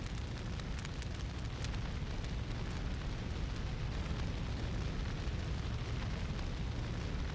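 A raging fire roars in the video game Breath of Fire 4, a dense, steady rumbling crackle of flames that holds constant and fairly faint, with no voices over it.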